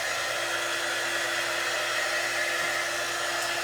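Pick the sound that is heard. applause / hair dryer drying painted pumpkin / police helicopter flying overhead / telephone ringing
hair dryer drying painted pumpkin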